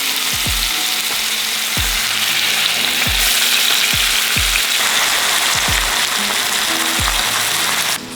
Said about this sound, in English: It is ready to roll hot and poppin', and we are just gonna place these in the pan.